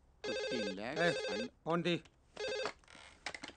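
A landline telephone rings in several loud electronic bursts of warbling tones, separated by short pauses, with a brief voice-like sound near the end.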